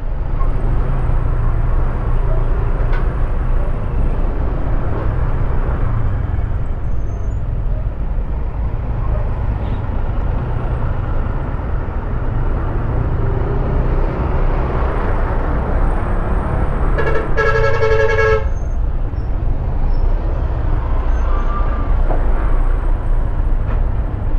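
Steady heavy road traffic near Gapan City, Philippines, with large trucks released after a truck ban, a continuous loud low rumble throughout and a brief tonal horn-like blare partway through.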